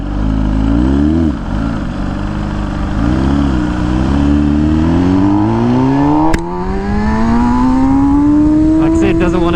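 An MV Agusta motorcycle engine, hesitating on upshifts, revs loudly nearby, dipping and surging before climbing in a long rising whine, with a sharp knock partway through.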